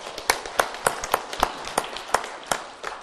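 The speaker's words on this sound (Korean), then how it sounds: "박수로 우리 환영하겠습니다" A church congregation claps steadily at a Christmas Day service, a fairly even rhythm of individual claps close by with no talking over it.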